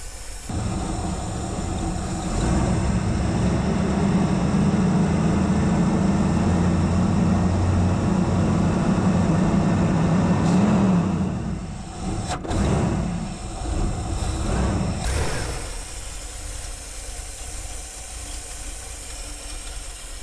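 Car engine idling low, fitted with a Holley Street Warrior 600CFM carburetor that is leaking fuel, a steady hissing rumble with a low drone that cuts out and changes midway, continuing quieter afterward.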